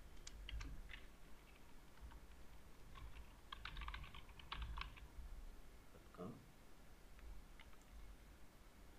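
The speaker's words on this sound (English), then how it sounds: "You can type your email." Computer keyboard keys clatter in irregular bursts of typing while a form is filled in, fairly close but quiet, with a steady low background hum.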